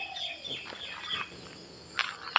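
Chickens at a temple in Lampang, Thailand, giving scattered clucks and chirpy calls, fairly faint and close, with a couple of sharper peeps near the end.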